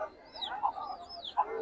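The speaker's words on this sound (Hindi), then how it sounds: "ये मुर्गे वगैरह सारी चीज़ें आई हुई हैं" Birds call at the Jama Masjid bird market in Delhi, where chickens and roosters are kept, with short rising and falling calls and a couple of brief louder squawks amid a quiet background.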